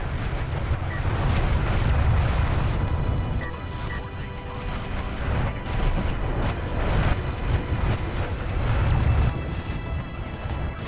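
Turrets firing in a Homeworld space battle, a rumbling stream of heavy booms and blasts with mechanical clatter, rising and falling in loud waves with no talk.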